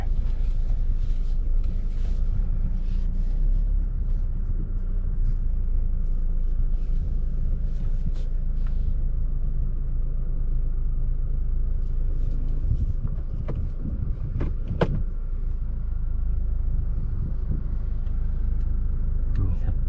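Automatic-transmission car turning into a 7-Eleven parking lot, a low steady engine and road rumble heard from inside the cabin with a few faint clicks.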